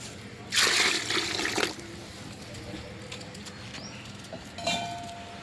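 Water pours into a large pot of biryani made with basmati rice, a loud splashing gush of about a second, then quieter trickles and a second shorter pour near the end, with no one talking.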